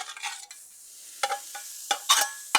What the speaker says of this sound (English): let's get this hamburger browning up also